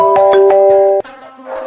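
A mobile phone rings with an incoming call, sounding a loud, close tonal ringtone in quick repeating pulses for about a second before it cuts off, leaving a fainter tone.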